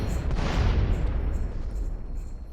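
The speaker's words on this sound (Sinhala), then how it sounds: "ඔන්න ඔය ආකාරයට බෝම්බයක් දානවා අපි" A bomb detonates in the video game GTA San Andreas, giving a loud, deep booming blast with a rumbling roar that slowly fades over a couple of seconds.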